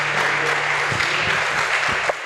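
Congregation applauding the Lord during a Sunday church service, loud continuous clapping from many hands filling the room, with a low steady hum beneath.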